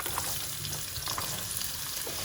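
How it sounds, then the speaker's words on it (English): Chopped onions and cumin seeds sizzle steadily in a hot pan for a spinach chickpea curry, a constant close crackling fry with no voices over it. "I'm going to let it sizzle for a few seconds"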